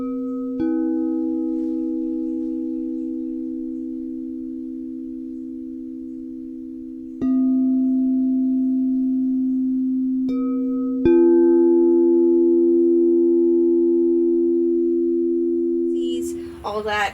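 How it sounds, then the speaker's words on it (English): A crystal singing bowl rings with a sustained, pure humming tone, struck again a few times so the resonance swells and slowly decays, clear and close with no talking. "I've started doing stuff with the crystal singing bowl, so like sound healing, working with different frequencies"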